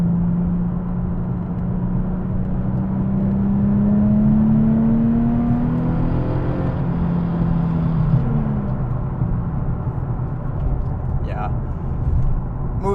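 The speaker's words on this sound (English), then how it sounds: "Just rowing through the gears." A Nissan 370Z accelerates up through the gears on the street, its engine note rising in pitch, dropping at each shift and climbing again, loud and close, with steady road rumble beneath.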